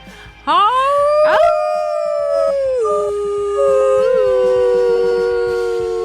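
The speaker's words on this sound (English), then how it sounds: "one more wolf howl" A long, rising wolf howl holds a steady note, then shifts pitch, with another howl overlapping in harmony; close and loud, no talking.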